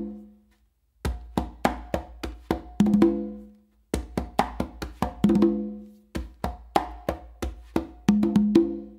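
Hand-played conga drums repeat a rhythmic pattern in three phrases, crisp slaps and open tones ringing out close and clear with short pauses between each run.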